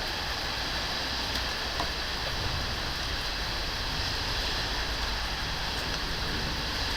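Steady heavy rain in one of the biggest storms seen in Connecticut, after hail, roaring evenly and close by for the full stretch with faint scattered ticks and no speech.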